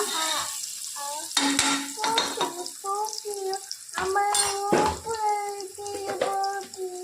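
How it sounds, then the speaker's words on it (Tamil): Onions sautéing in a pan, a soft sizzle with scraping stir strokes, heard under a speaking voice that talks over most of the stretch. "இப்போ வந்து ஆனியன் கொஞ்சம் நல்லா வதங்கிருச்சு"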